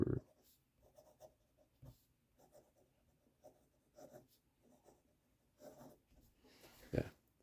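Lamy 2000 fountain pen nib scratching across paper in short, intermittent strokes, close and fairly quiet, with brief pauses between bursts of writing.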